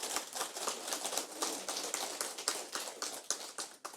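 Audience applause at a Buddhist dharma talk by a monk, many hands clapping steadily with dense overlapping claps throughout, fairly loud and close, no voices over it.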